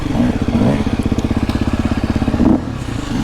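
A KTM 350 dirt bike engine pulses with a steady, fast four-stroke rhythm while riding through snow, loud and close, with throttle surges near the start and end.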